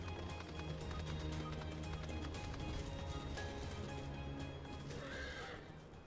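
A horse neighs and whinnies inside the Final Fantasy XIV game world, clear and fairly close over a dense bed of game music and ambience, with clip-clop hoofbeats mixed in.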